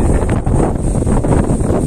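Strong wind blows across a mountainside by the Parappathara river, a loud, steady roar buffeting the microphone with no break for the whole stretch.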